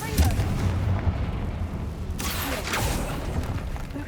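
A Confringo blasting spell goes off in the Hogwarts Legacy video game inside a tomb, a loud booming burst with a broad rumbling tail and a second crackling flare partway through, dense and continuous.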